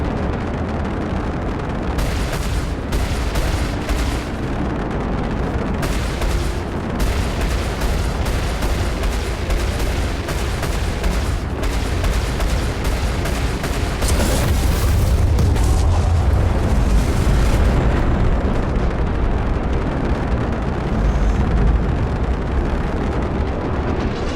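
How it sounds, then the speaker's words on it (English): Size 2 Tarantula ballistic cannons fire from an Aurora LN fighter in Star Citizen, a loud, sustained volley of heavy thumping booms in rapid, uneven bursts, close and dense, with no voices over it. "That thumping ballistic cannon Tarantulas"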